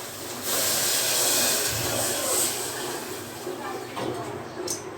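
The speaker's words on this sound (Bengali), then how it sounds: "এটা ভাজা ভাজা হয়ে গেছে এবং নিচের দিকে লেগেও যাচ্ছে, তাই এর মধ্যে এখন আমি জলটা অ্যাড করে দেবো" Water poured into a hot pan of fried greens bursts into loud steaming hiss that holds for a few seconds and then settles into a softer, uneven sizzle.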